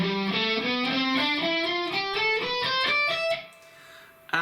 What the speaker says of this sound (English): The fast alternate picking lick is based on the B Locrian scale in 3 notes per string